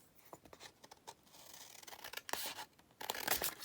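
Scissors snipping through folded food-coloured craft paper, a run of quick, faint crisp cuts and rustles at close range, growing slightly busier toward the end.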